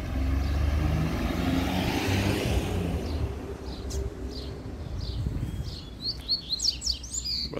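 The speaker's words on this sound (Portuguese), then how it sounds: "Encontrei outro coleiro com o mesmo canto daquela outra, galera." A coleiro, or double-collared seedeater, sings outdoors in quick bright chirps and twittering phrases that grow stronger toward the end, over a low rumble of passing road traffic.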